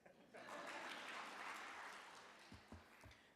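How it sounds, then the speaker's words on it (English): Audience clapping at the Ye! Summit 2022, a steady wash of applause that swells quickly and holds, then thins out near the end with a few louder isolated claps. "Can we clap for Bob?"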